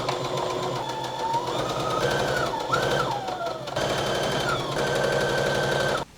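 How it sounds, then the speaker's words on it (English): A sewing machine runs continuously up close while edge stitching along the fold of a summer top's hem, a steady fast whirring with slight shifts in speed and a brief stop at the end. "we're just gonna edge stitch right next to the fold at the top to secure the hem"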